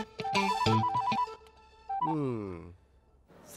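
A phone ringtone plays a short electronic melody, pauses, then sounds again with sliding tones; no speech.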